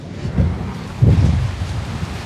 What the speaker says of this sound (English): Woohoo! Rainy rain.